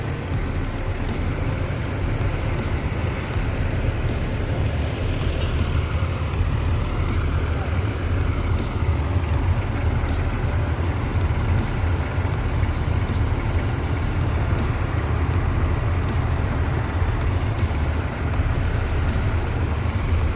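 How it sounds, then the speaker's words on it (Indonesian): Intercity bus engine driving, a loud, steady low drone with road noise throughout, no talking. "Ini bus akap."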